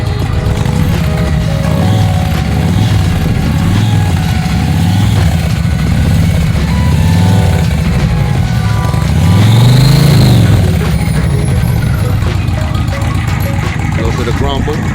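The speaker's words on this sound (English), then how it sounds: "Give you a little bit of the engine rumble." Custom-built motorcycle engine rumbling steadily in a garage, a loud continuous low idle with a brief swell of revs midway, while someone talks over it throughout.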